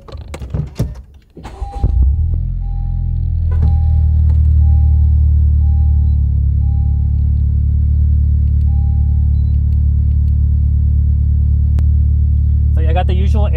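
A Honda Civic Type-R FK8 starting up after its battery is reconnected: a short crank, then the engine catches and settles into a loud, steady low idle rumble that continues to the end.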